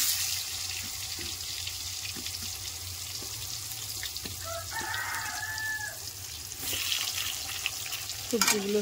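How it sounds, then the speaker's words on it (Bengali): Spiny gourd (kakrol) pieces frying in hot oil in a home kitchen, a steady close sizzle and hiss throughout with a few soft clinks and a brief louder stir near the end. "এবার আমি কাঁকরোলগুলোকে ভেজে নেব।"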